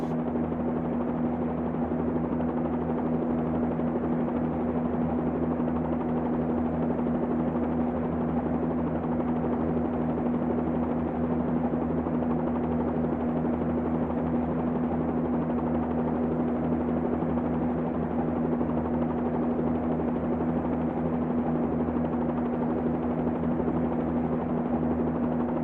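A Bell 47-2G helicopter flown in the X-Plane 11 flight simulator along an island coast gives a steady, unbroken rotor and engine drone with a constant low hum throughout, with no talk.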